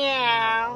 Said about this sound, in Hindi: बिल्ली का बच्चे बोल तो सही